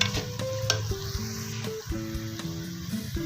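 Masala for fish karahi is mixed in a hot pan, giving a constant close sizzle with busy stirring and scraping throughout the short stretch.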